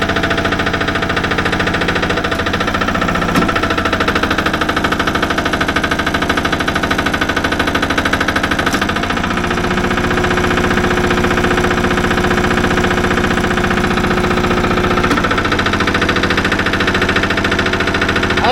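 A homemade log splitter engine idles loudly and steadily up close, a continuous mechanical drone with a few faint clicks and small shifts in tone over nearly twenty seconds.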